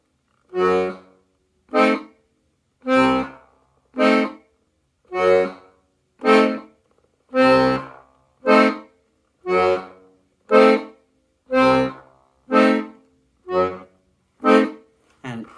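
Diminished chords are played one at a time on a keyboard, roughly every second and a half. Each chord sounds clearly and alone, then decays before the next.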